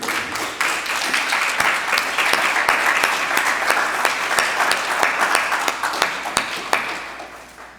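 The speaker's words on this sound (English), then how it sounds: "we're going to give a big round of applause" Sustained applause from an audience at a 2022 graduation ceremony, dense steady clapping with sharp individual claps poking through, loud and close throughout, fading slightly at the end.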